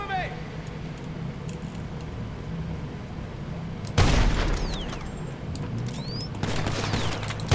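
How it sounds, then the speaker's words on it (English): Gunfire erupts in the Just Cause 3 Mercenaries DLC, a sudden loud burst of shooting and impacts that continues as scattered shots over the game's background noise. "Who's shooting at me now?"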